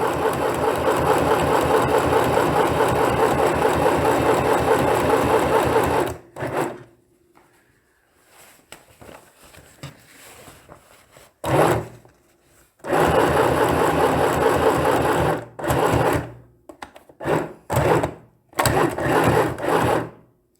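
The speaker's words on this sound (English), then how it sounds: "Now I'm going to stitch this chain all the way down and then do the other side." A sewing machine stitching a chain onto a tote bag, running in long loud continuous bursts with a steady mechanical whir, pausing and restarting in shorter runs, close up.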